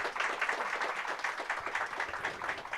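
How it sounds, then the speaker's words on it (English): A crowd at a book event for author Christina Estes' debut mystery applauds. Steady, dense clapping carries evenly through the short moment at a modest, slightly distant level. "Give her a round of applause."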